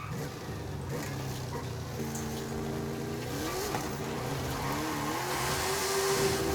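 A truck in Forza Horizon 5 revs its engine, holding a steady, climbing drone while its tires spin and slip on the Mexico map. The sound is moderate and continuous, with no talk.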